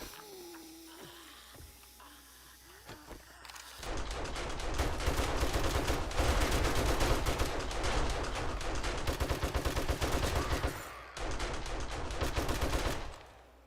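Automatic turrets in the video game 7 Days to Die firing long, rapid, loud bursts that run for several seconds, stop briefly and then resume, after a quieter stretch of ambient game sound.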